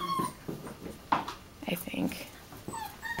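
A litter of 5.5-week-old puppies whimpers and yips in short, high bursts, close by, with a person speaking briefly over them.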